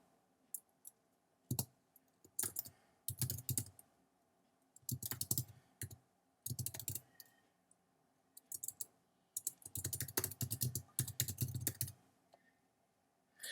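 Subtitle text being typed on a computer keyboard, with bursts of quick close key clicks separated by short pauses, crisp and fairly quiet, with no talking over it.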